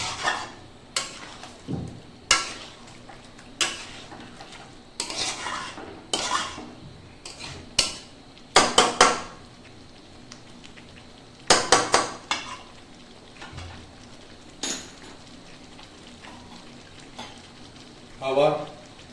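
Chicken korma with capsicum is stirred in a pan over a gas flame, a series of sharp metallic spoon scrapes and clinks recurring irregularly over a faint sizzle.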